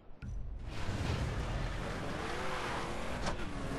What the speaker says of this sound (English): Okay, so it's one of these fast cars too.